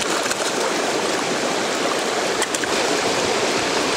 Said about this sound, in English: Just gonna rinse him off real quick.